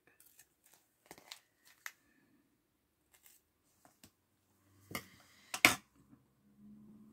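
Scissors snip through washi tape during a small recycled-pouch craft, giving a few sharp, close clicks and crunches spaced across a mostly quiet moment, with one louder double snip near the end.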